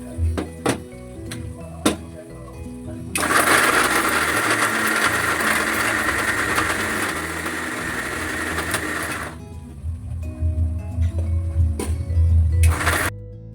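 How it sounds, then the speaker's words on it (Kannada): A kitchen mixer grinder blends fried masala with mint, coriander and a little water for mutton biryani, a loud steady whirring drone that runs for several seconds between quieter clicks and handling noises. "ಅದಕ್ಕೆ ಸ್ವಲ್ಪ ನೀರು ಹಾಕಿ ಮಿಕ್ಸಿ ಮಾಡ್ಕೊಳ್ಳೋಣ."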